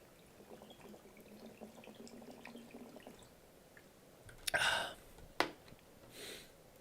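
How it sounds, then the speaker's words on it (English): A person takes a quick drink of water, with a few soft sips and a sharp gulping exhale close to the mic after a stretch of quiet room noise. "Let me just drink some water real quick."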